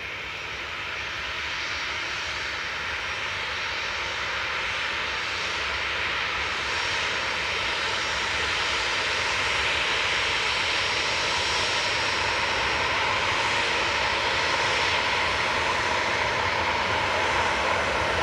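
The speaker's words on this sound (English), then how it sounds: "is the KLM going full length? Come on, KLM, use all the runway." A KLM airliner rolls down the runway at Newcastle Airport, its jet engines giving a steady, distant roar that builds gradually in strength across the whole stretch, with no voices over it.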